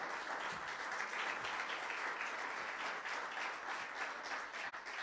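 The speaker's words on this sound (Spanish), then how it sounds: "Denle un aplauso al Señor." A church congregation applauds steadily and loudly for about five seconds, a dense wash of many hands clapping at once with no voices standing out.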